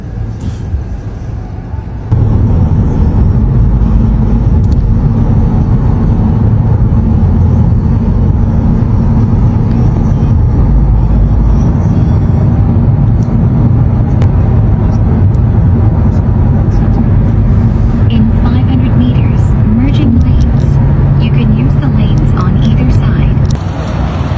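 A Hyundai Avante rental car drives through Seoul, its steady low engine and road rumble filling the cabin throughout, with people talking inside over the drone.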